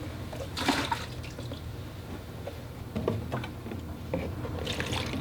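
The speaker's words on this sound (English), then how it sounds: "So I added some fresh, clean water." Fresh, clean water is poured into a container for watercolor painting, making a soft, close trickle and splash with a few brief louder bursts.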